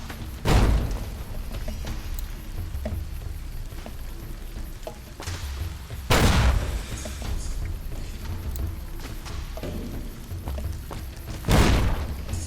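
Three heavy grenade explosions in Fallout: New Vegas go off a few seconds apart, each a loud booming burst that fades into a low crackling, sizzling rumble between blasts.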